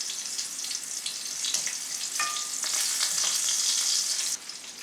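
Meatballs brown in olive oil in a pan, a steady close sizzle and crackle with occasional stirring and scraping, growing slightly louder toward the end.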